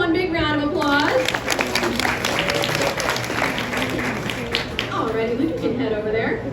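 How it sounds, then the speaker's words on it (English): Audience applause for a child volunteer at a NASA space demonstration in Houston, a steady dense clapping that runs throughout while a voice talks over it near the start and again near the end. "Can we give him one big round of applause?"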